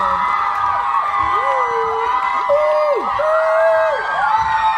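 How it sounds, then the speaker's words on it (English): A large, excited crowd cheers and shouts after a Medfield girls' field hockey goal against Bellingham, a sustained roar with rising whoops and yells carrying throughout. "Crowd is hyped."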